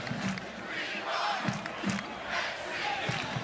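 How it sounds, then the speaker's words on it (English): A stadium crowd at a USC college football game roars with continuous cheering and shouts, with louder bursts of crowd noise rising and falling throughout. "The RSC cheer as Aiden Childs goes back to work for 15 mor"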